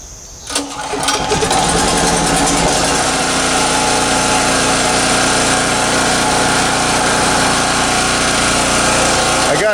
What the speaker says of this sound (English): give the generator a little workout